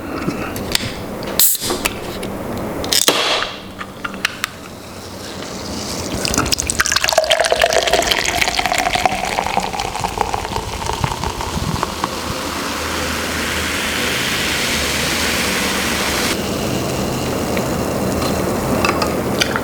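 Coca-Cola pours into a glass close up, a steady fizzing, gurgling liquid stream with a few sharp clinks and taps at the start, continuing alone for most of the clip.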